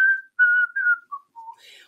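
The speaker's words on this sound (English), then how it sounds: "I was too busy whistling" Someone whistles a short cheerful phrase of a few clear notes, each one held briefly and separated by small gaps, close and alone.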